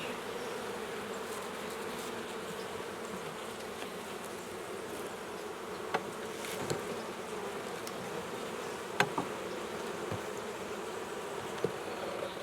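Honeybees buzz steadily at an open hive during an inspection, a dense continuous drone close by with a few faint clicks and knocks from handling the frames.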